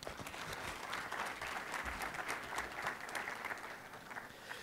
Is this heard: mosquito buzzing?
no